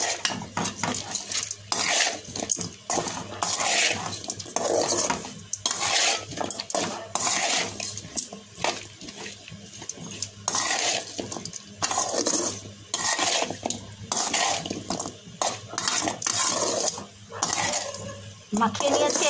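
Vegetables and lentils are mixed with mustard oil in a metal pot, bringing steady scraping and clinking of a spoon against the pot in repeated strokes, close and fairly loud, with brief pauses.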